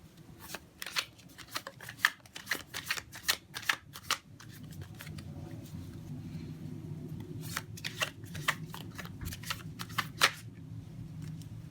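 A deck of tarot cards being shuffled by hand: quick, crisp riffles and flicks in irregular bursts, fairly close and quiet, with a soft rustling bed underneath and no talking.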